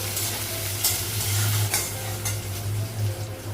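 Onions fry in a pan with a steady crackling sizzle, stirred with light clinks and scrapes of a utensil against the metal, close and continuous.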